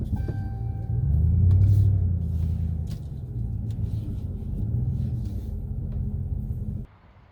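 A pickup truck towing an old boat labours up a steep grade, its deep engine rumble swelling and easing as it climbs before cutting off abruptly near the end.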